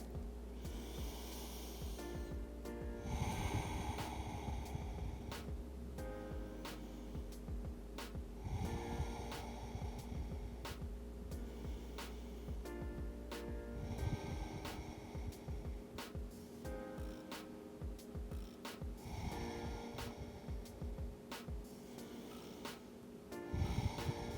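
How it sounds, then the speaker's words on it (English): Slow, deep breaths during a yin and vinyasa yoga flow, inhaling and exhaling in long, even cycles about every five seconds, close and soft, with a steady low hum underneath. "Five deep breaths here."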